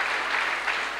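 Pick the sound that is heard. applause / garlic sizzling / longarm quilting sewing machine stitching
applause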